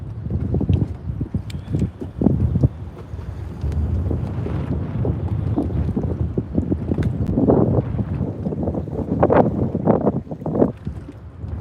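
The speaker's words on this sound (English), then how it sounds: "Can you guys hear that wind?" Wind gusts over open water while fishing from a boat in a ditch, a steady rough buffeting roar hitting the microphone, with irregular knocks and sloshes under it and no talking.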